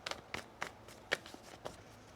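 Tarot cards being shuffled by hand, a handful of soft papery riffles and slaps spaced irregularly, close and fairly quiet with no talking.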